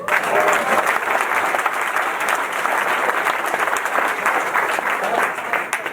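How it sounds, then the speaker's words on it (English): Enthusiastic applause from a reunion audience honoring a priest, a full, steady roar of many hands clapping throughout, loud and close. "That's applauding for God"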